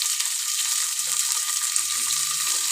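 Steady, hissing sizzle of small shallots, a sliced large onion, green chilies and curry leaves sautéing in hot oil in a pan, a continuous bright crackle close up with faint clinks underneath.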